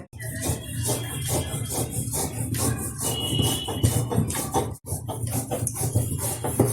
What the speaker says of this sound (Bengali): আপনারা কিন্তু অবশ্যই একটু শিলনোড়ায় কষ্ট করে বেটে নেবেন